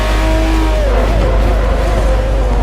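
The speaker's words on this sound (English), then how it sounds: "Really hammering this car, trying to get myself into 3rd." Loud, close race car engine revving hard at Silverstone in Forza Motorsport 4, a sustained roar with rising and falling pitch as it pushes toward a gear change, continuous throughout.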